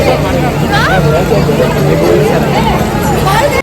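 Crowd hubbub at the ISKCON temple: a dense, loud, continuous babble of many voices close around, with a low background rumble and some nearer voices standing out now and then.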